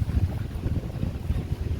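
Brief burst of a motor boat ride on Malampuzha reservoir: a low, buffeting rumble of motor and water, roughened by wind gusting across the microphone.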